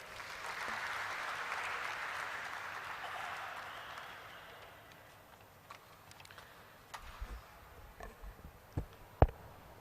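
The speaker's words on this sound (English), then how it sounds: "Please have a round of applause, everybody." Faint audience applause at a stock exchange listing ceremony for Popular Vehicles and Services Limited, a soft wash of clapping that fades out over the first few seconds, followed by quiet room tone and scattered clicks.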